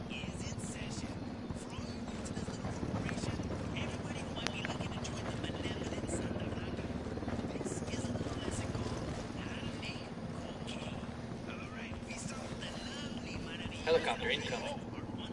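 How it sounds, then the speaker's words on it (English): A helicopter approaches in the Ghost Recon Wildlands video game as a steady, droning rotor rumble holds throughout under voices, with a brief louder swell near the end. "Helicopter incoming."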